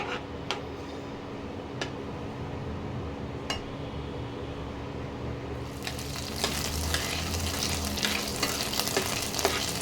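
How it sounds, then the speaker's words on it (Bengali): Green chillies and nigella seeds fry in hot oil with a continuous crackling sizzle and light ticking spatters. The sizzle grows noticeably louder and busier partway through, with no talking. "ওই তেলের মধ্যে কাঁচা লঙ্কা দিয়ে দিলাম আর একটু কালো জিরে দিয়ে দিলাম। একটু ভাজা ভাজা হোক"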